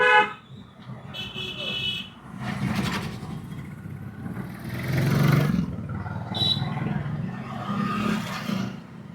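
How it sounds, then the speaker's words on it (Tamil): Traffic noise with a car horn honking briefly amid engine rumble and roaring, busy and fairly close, with scattered indistinct voices. "ஒரு முறை ஹார்ன் அடிக்கும்"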